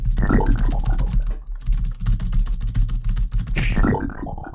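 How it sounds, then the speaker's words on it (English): A computer keyboard's space bar is mashed rapidly right beside the microphone, producing a loud, continuous stream of clacking over game sounds. "you can hear my space button because my microphone is right next to the keyboard"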